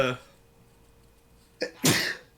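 A single sharp, explosive sneeze bursts out near the microphone after a brief voice at the start and a short intake of breath.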